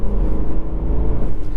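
Deep, throaty rumble of the V8 engine in a BMW E92 M3, loud and close with pulsing low-end throb as it idles or moves slowly, heard alone without talk.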